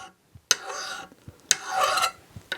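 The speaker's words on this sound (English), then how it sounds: "Keep filing until you are happy with the overall shape of the slight dome." A metal file rasps across the peen of a jewelry hammer in three steady strokes about a second apart, each starting with a sharp catch, close and fairly quiet with no voices.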